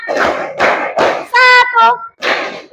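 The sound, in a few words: children clapping hands in a rhythm game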